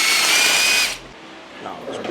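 An impact wrench bursts loudly for about a second on a very tight bolt on a Nissan VQ engine, then cuts off, leaving faint shop noise.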